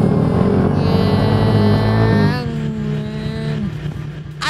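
Motorbike engine revving in a video game, a loud close buzzing rev that climbs and holds before dropping to a lower idle note, with a voice briefly present.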